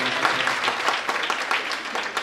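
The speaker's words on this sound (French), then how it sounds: "mais aussi de les applaudir" Sustained applause from an audience at a French-language ceremony, a dense wash of many hands clapping at an even, fairly loud level throughout.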